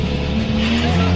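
An Aston Martin accelerates hard with its tires squealing, a loud, sustained screech over a roaring engine, close by and continuous for about a second.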